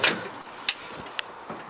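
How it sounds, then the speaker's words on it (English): Doors on an old truck with wood door panels open and close in a short series of sharp clunks and latch clicks, separate distinct knocks spaced across the moment. "All the doors open and close."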